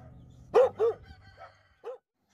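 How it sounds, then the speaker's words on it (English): A dog barks two quick close barks, then gives a softer yip and one more short bark, with a faint background hum and no voices. "D for dog."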